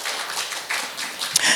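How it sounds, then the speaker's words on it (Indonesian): A church congregation claps hands in quick, scattered bursts, a short, close, brisk patter lasting only a moment. "Boleh tepuk tangan bagi Roh Kudus."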